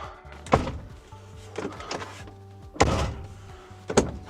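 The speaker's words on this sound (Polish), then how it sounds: "czy drzwi się zamykają?" A van's door is pulled shut several times while its lock is tested, giving a series of firm, close thunks with a short mechanical rattle after each one. No speech is heard.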